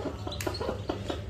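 A hen at home clucks softly near her newborn chicks, with short repeated clucks over a low background murmur.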